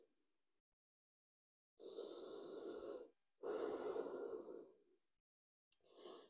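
Slow, deep breathing in a yoga child's pose: two long, soft breaths, one after the other, then the start of a third, close and quiet against silence.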